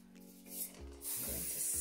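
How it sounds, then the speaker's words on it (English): Short pumps of GLAM Shine Spray misted onto sectioned hair during curling-iron styling, two close, soft hissing bursts in quick succession. "I'm going to spray a little bit more around there again"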